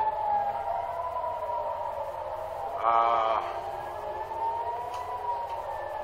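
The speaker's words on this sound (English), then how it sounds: "that's another air raid siren going on in North Tel Aviv." A distant air raid siren in North Tel Aviv wails steadily, rising and falling slowly, with a brief murmur of a voice nearby.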